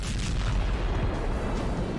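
An explosion on the Crimea bridge comes through as a deep, sustained rumbling roar, heavy and continuous in the low end, with no voices.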